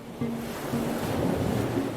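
Ocean waves wash in a continuous, moderately loud rush with a slight wind-like hiss, steady throughout and free of any speech.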